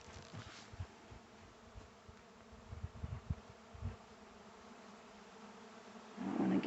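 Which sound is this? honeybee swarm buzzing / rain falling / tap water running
honeybee swarm buzzing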